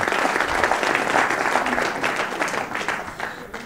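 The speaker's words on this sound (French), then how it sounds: "Je pense qu'on peut l'applaudir." Audience applause in a television studio, close and full, a thick flurry of clapping that begins loud and gradually thins and fades over a few seconds.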